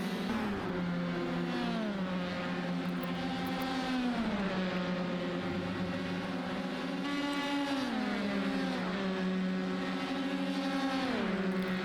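Formula 1 race cars lap a virtual Road America circuit in a racing video game, their loud, continuous high-pitched engine whine rising and dropping in steps through gear changes, with several cars overlapping and no talk.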